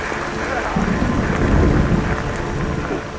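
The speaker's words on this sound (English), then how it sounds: "the rain's getting harder and harder" Heavy rain pours down in a dense, steady roar with low rumbling, loud and continuous throughout, no voices.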